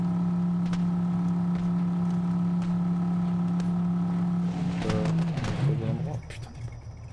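Vehicle in the Borderlands 3 video game, heard as a steady engine hum with a sustained tonal drone that shifts and fades toward the end, under gameplay sounds.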